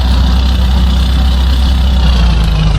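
A boat engine in the Roblox game Dead Sails drones loud and steady, a constant low idling rumble that holds without change, with no talk over it.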